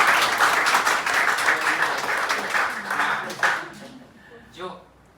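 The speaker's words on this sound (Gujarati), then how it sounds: "ચાલો જોરમાં છોકરાઓ આપણે તાળી પાડો." Students at a free career-guidance seminar at a computer class break into loud, sustained clapping that fills the room, then fades away, with a brief voice near the end.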